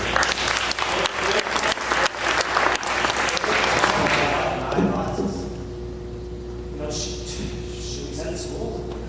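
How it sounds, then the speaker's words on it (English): A public meeting audience applauds the schools with a burst of dense clapping that fades away after about four seconds, leaving a quiet room where a voice speaks over a low hum. "Please give them a round of applause."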